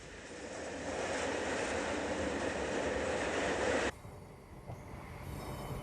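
A train hauled by two coupled BB 8100 electric locomotives rolls past in the Rhône valley, a loud continuous roar of wheels and motors that abruptly drops to a quieter rumble partway through.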